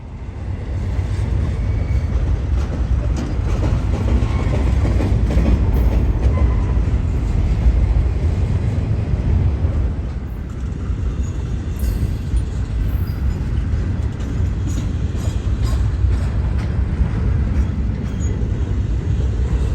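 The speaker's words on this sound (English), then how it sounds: "I knew that I was going to see an outbound train to Arlington after all." A Union Pacific freight train on the Condon Branch rolls out toward Arlington, a steady, loud rumble of rail cars and wheels that lasts throughout, with a slight dip in intensity midway.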